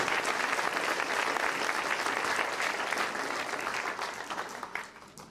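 Audience applause at a New Year's wishes ceremony, steady dense clapping from a large room that continues for several seconds before tapering off.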